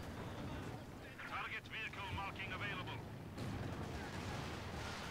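Stuka dive-bomber strikes land in the Company of Heroes 2 strategy game, rumbling explosions and battle noise rolling beneath a commentator's continuous talk, with a burst of crackling debris midway.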